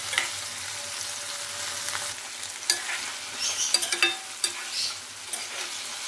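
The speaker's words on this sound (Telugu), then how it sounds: "ఇప్పుడు మనం కట్ చేసి పెట్టుకున్న టమోటా ముక్కలు వేస్తున్నాము. ఇంకొంచెం ఫ్రై అవ్వాలి." Chopped tomato pieces fry in a pan for a Telugu gongura egg curry, with a soft steady sizzle and clusters of utensil scrapes and knocks in the second half, near and without speech.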